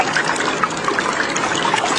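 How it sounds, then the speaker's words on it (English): Flowing water rushes and gurgles steadily and fairly loudly, a continuous trickling wash with small bright splashes throughout and no voices. "The sound of flowing water and birds chirping could be heard."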